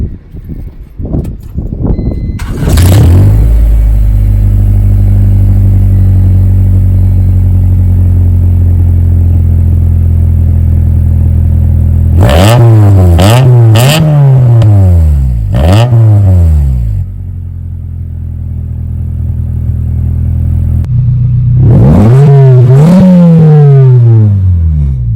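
An Acura Integra fitted with a new exhaust and a K&N filter idles loudly, then gets several sharp rev bursts that rise and fall, a steady idle between, and a final pair of revs near the end.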